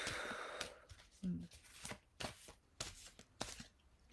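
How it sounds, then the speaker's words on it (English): Tarot cards being shuffled for a reading, a run of soft papery riffles and taps in irregular bursts, close and quiet, with a sigh near the start. "Just need to shuffle a little bit for Nicole."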